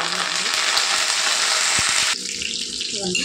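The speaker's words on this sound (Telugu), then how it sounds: "కరివేపాకు ఎండుమిరపకాయలు వేగిపోయాయండి" Curry leaves and dried red chilies fry in hot oil in a tempering, giving a loud, steady crackling sizzle that abruptly drops to a quieter hiss near the end, with faint clicks underneath.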